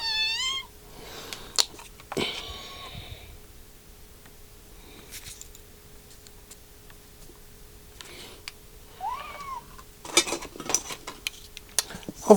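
Noodle, a small kitten, lets out several high, thin meows in short bursts across the stretch, mixed with clinks and handling noises nearby and quiet gaps between, no talking.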